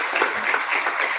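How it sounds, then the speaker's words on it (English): Brief, dense audience applause at a community politics forum, a short burst of many hands clapping at steady loudness. "So please give them a round of applause."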